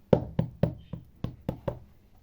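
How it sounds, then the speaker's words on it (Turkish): Knocking on a door, seven sharp, evenly spaced raps, close and distinct, with no one speaking. "Kapı çalıyor aç."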